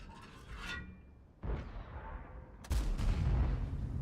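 Tank cannon fire in World of Tanks with a T110E5, three heavy booming shots spaced over a few seconds, each with a sharp crack and a long rolling decay, the last loudest and closest.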